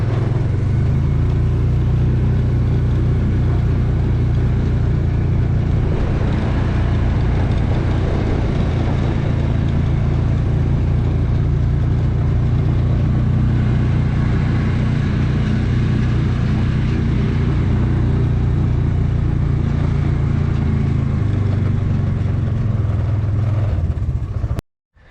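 A 2018 Polaris Ranger 500 utility vehicle out on a test drive after an oil change, its engine droning loud and close the whole time, rising and falling as the throttle changes, with no one speaking.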